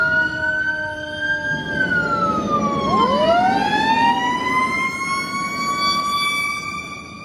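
Philadelphia fire apparatus, Engine 10, Ladder 11 and Battalion 1, responding to a full house box alarm, with wailing sirens sweeping up and down in overlapping tones, loud and close over a low rumble of truck engines.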